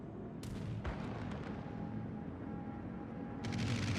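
Naval guns thud in a warship video game, with several distant, muffled booms early on and another burst near the end over a steady low rumble of ship and battle noise.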